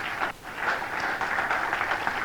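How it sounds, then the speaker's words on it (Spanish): Steady applause from a church congregation, a continuous wash of clapping that stays fairly loud throughout, with no talk over it. "Dale ese aplauso fuerte al Señor."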